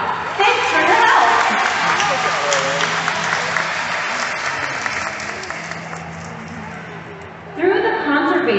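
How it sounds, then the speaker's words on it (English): A large stadium crowd at the SeaWorld San Antonio orca show gives long, sustained applause that swells at the start and again near the end, with an amplified announcer voice over the clapping. "Ladies and gentlemen, give yourselves a round of applause"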